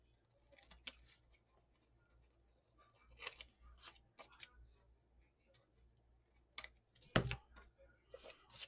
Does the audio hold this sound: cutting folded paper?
yes